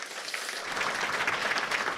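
Audience applause for the nominees at a Volunteer of the Year awards ceremony, a broad crowd of clapping that swells slightly after the first moment and holds steady.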